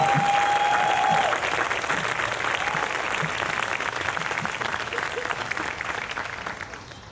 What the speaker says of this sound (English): One more round of applause for my readers,